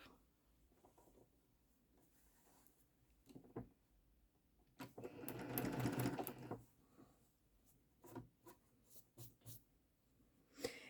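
A domestic sewing machine stitches a quilt, one steady whirring run of a couple of seconds set among quiet handling clicks and rustles, fairly faint and close.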